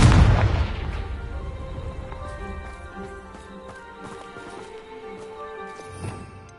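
A Bombarda spell explosion in Hogwarts Legacy bursts loudly at the start with a deep boom, then decays into a long rumbling tail mixed with lighter game effects and scattered clatter.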